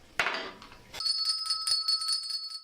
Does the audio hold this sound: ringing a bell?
yes